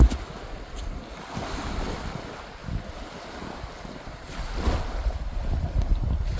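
Surf washing onto a beach beneath a tall cliff, a steady broad wash with swells building around the middle and near the end, mixed with gusty wind buffeting the microphone.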